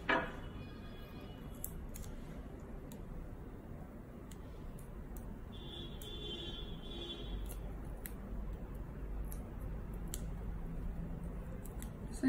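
Scissors cut double-sided tape for a bamboo DIY project. Faint snips and ticks sit over a steady low background hiss, with a brief clearer burst midway and no speech.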